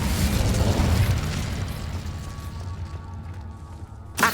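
Incendio fire spell in Hogwarts Legacy: a loud, dense whooshing burst of flame that roars for about two seconds, then thins into a quieter crackling tail, with a short sharp flare at the very end.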